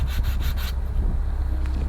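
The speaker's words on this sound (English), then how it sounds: "you've got to be really careful sanding this stuff" Pressed particle board parts from a 1:50 scale wooden model kit of the Flying Dutchman are sanded by hand with quick, rhythmic rubbing strokes close to the microphone, then the rasping turns to softer, scattered scraping.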